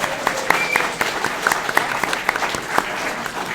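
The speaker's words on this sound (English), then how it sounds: "a huge, colossal round of applause for the amazing Lee Sullivan" A round of applause from a live fan-event audience, moderately loud clapping with scattered sharper individual claps, continuous and without talk.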